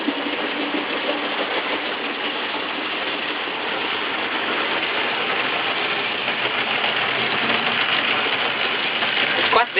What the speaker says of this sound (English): I thought you'd like to see some of the pictures that I took this evening of the train running.